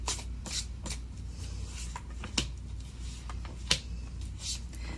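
Tarot cards shuffled by hand in a series of quick riffling bursts, close and clear, with a couple of sharper snaps among the soft rustles.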